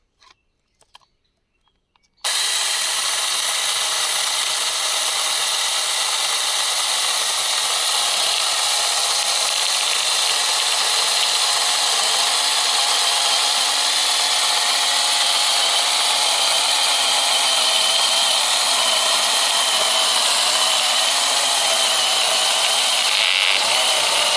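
A portable battery pole chainsaw starts after a few clicks and runs with a loud, steady high-pitched whine as it cuts into a branch, close and continuous without talking.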